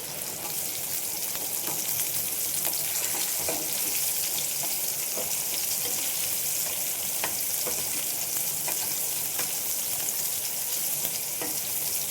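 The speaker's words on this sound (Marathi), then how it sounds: "मी हे रव्याचं रवा लावून घेतला आहे चला ते फ्राय करते" Semolina-coated shingta fish frying in a pan of oil, a steady dense sizzle with scattered pops and crackles, close and continuous throughout with no talking.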